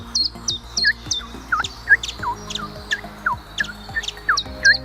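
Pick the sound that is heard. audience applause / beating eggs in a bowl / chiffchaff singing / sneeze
chiffchaff singing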